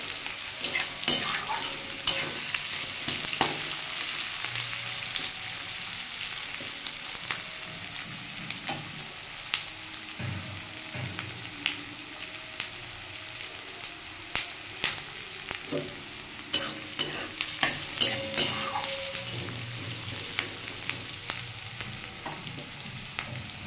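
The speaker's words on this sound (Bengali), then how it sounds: "পেঁয়াজটা একটু ভাজা হোক।" Sliced onions frying in hot oil in a pan with black cumin seeds, for a Bengali okra and potato fry; a steady close sizzle runs throughout with occasional stirring scrapes and utensil clinks, no voices.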